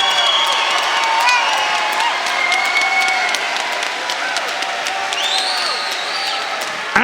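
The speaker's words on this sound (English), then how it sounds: "give these two guys a round of applause" A combat sports crowd applauds and cheers two fighters after their bout, dense sustained clapping with whoops and shouts, loud and close and continuing throughout.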